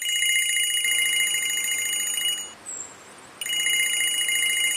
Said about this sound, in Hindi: अरे ये मेरे अलार्म का साउंड है,